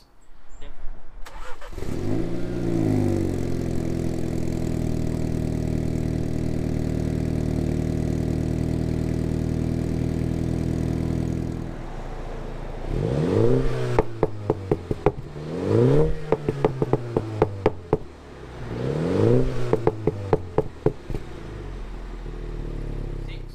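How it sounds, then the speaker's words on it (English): A Mini Cooper F56 JCW engine with its standard exhaust idles with a steady low rumble for several seconds, then revs sharply several times, each rev rising and falling with crackles. "we'll cut to a clip which is pre-exhaust, so just the standard JCW exhaust on my F56"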